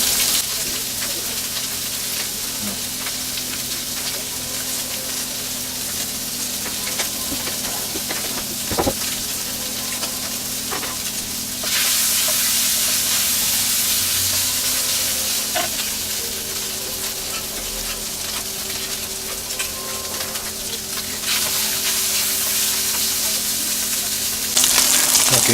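Pieces of beef tongue fry in a pan with a constant loud sizzle, broken by occasional scrapes and stirs and a few surges in the hiss as the meat browns; no voices are heard.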